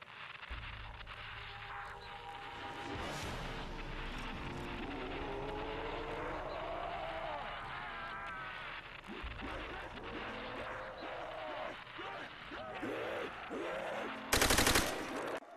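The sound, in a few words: gunshots and screaming from radio in COD World at War Zombies video game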